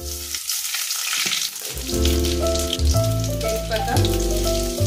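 Cumin seeds dropped into hot oil for egg bhuna khichuri crackle and sizzle loudly and close. The frying swells after a quieter start and keeps up a dense, bubbling hiss with faint music underneath.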